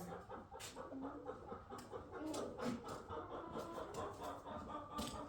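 Chickens on a homestead cluck and chortle in a busy, overlapping chorus, close by and fairly steady, with short sharp calls popping out now and then over a constant background of fowl noise.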